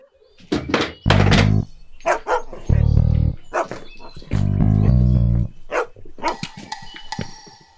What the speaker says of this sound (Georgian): ამა მითხარი, აგეი ძაღლი რა თაყებს, ა? გაბრაზებულია.